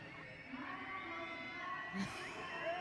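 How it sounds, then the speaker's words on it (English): Crowd at an esports arena during a VALORANT Masters Santiago match between PRX and NRG, a distant, steady murmur of cheering and shouting with a few brief louder whoops. "You can hear the crowd egging him on"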